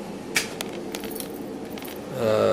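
Keys jingle and clink as pockets are emptied, a few metallic rattles close by, followed by a rising rustle or hum at the end.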